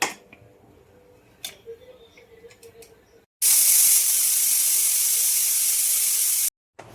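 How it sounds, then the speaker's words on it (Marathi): Loud, steady hiss of steam escaping a pressure cooker cooking mixed-legume pulao, bursting in suddenly and holding for about three seconds before cutting off, after quieter kitchen clatter. "आता मी कुकर लावत आहे याच्या तीन शिट्ट्या तुम्ही घ्यायच्या"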